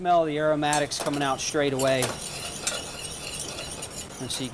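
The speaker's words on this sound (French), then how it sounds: "On va d'abord faire suer les échalotes dans le beurre et on y ajoute la pâte de curry" A utensil stirs shallots sweating in butter with curry paste in a pan, making soft clinks and scrapes. A tonal, melodic sound runs through the opening seconds, then the quieter stirring continues alone.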